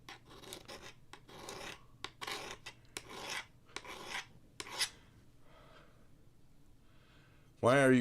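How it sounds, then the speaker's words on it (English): Freehand knife sharpening by hand, a run of short rasping strokes of steel on a stone in an uneven rhythm, close and moderately loud, followed by a quieter stretch and a brief sharp squeal at the end. "I have the honor of sharpening this."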